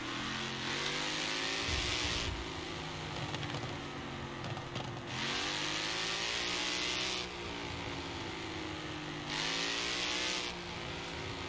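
Ford car engine revving in the Forza Horizon 4 racing game, a steady loud drone with repeated rising and falling pitch sweeps as it accelerates and shifts, running continuously throughout with no talk.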